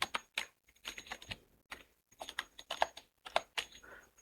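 Quiet, close typing on a computer keyboard while working in Microsoft Word: short bursts of crisp keystrokes separated by brief pauses, with no speech heard.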